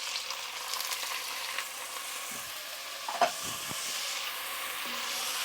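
Shrimp and calamari fry in hot oil for a seafood stew, making a soft, even sizzling hiss with a few faint knocks and a small clatter partway through.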